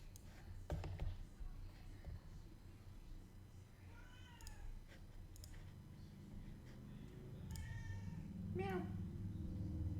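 A house cat meows a few times, drawn-out, wavering cries, the last one loudest, over a low steady room hum at fairly quiet volume.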